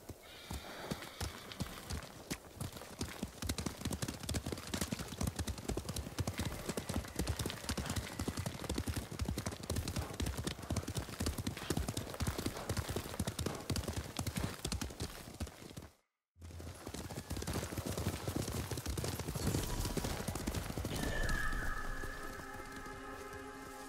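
Horse galloping in the game Ghost of Tsushima, with steady, close, rapid hoofbeats running throughout, a brief dropout in the middle, and a whinny among the hooves.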